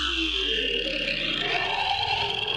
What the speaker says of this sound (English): pretty much just your standard growl without the arpeggiator